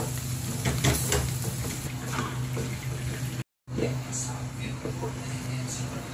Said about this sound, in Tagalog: haluin natin ang ating seafoods